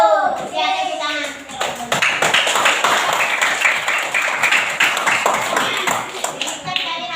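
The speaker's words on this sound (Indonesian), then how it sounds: "Ya, tepuk tangan." Children clapping together in a classroom, a burst of many small hands applauding fairly loudly and close, with a teacher's voice briefly at the start and children's voices mixed in.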